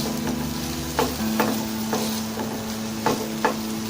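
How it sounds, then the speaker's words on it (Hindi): Carrots and green onion being stir-fried in a pan, a steady sizzle broken by several sharp scraping stirs of the spatula at irregular intervals, close and fairly loud with no voices. "इसको थोड़ा सा बस फ्राई करेंगे"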